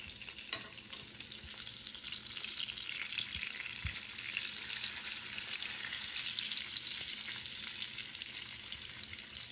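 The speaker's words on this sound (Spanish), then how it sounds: "El sartén está calientito el aceite y lo vamos a dejar ahí que se fría." Stuffed chicken breasts filled with ham and cheese fry in hot oil in a pan, giving a steady, dense sizzle with faint crackles and pops throughout, close and without talk.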